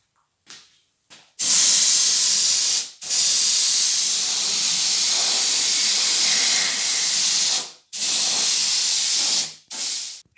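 An aerosol can sprays paint onto a masked part of an OMC 235 sterndrive's upper gearbox in loud, close hissing bursts: two brief puffs, then three long sprays and a short final burst, with no talking.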